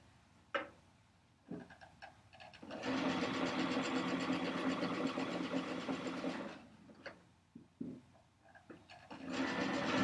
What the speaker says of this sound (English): So we're going to be stitching here.